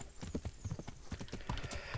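Steady, rapid clip-clop of horse hooves in the medieval video game Kingdom Come Deliverance, a brisk continuous rhythm at close range with no talking.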